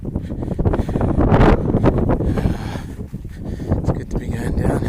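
Wind buffeting a microphone on a hillside track above a lake valley, loud low gusty rumble throughout with a person talking over it.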